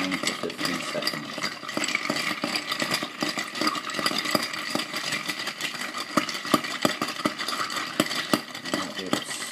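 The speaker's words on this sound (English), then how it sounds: "So you put your stirring spoon in at the side there and simply stir for about, as I say, 10 to 15 seconds." A stirring spoon swirls and clinks steadily in a mixing glass for a toasted sesame seed Sazerac, a continuous close rattle of ice and liquid with frequent small metallic ticks over about ten seconds.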